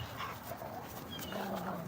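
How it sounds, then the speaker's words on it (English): A dog moving about and making small whimpers and pants nearby, faint and continuous against a quiet background while chalk art is being drawn. "the dog's like playing right here."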